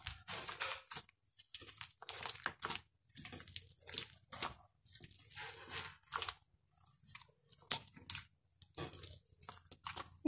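Dough for achappam being worked by hand with egg mixture, sugar and coconut milk: close, wet squishing and crinkly squelches in irregular bursts separated by brief quiet gaps, with no talking.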